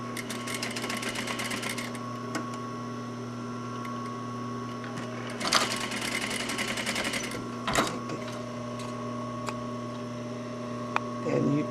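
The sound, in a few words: sewing machine stitching seams on bows and appliques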